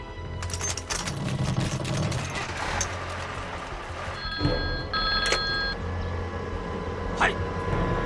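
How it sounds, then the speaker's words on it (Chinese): A telephone bell rings in short bursts at a military field post, heard over a steady low rumble of engines and background noise. "中佐，山木少佐，请您听电话"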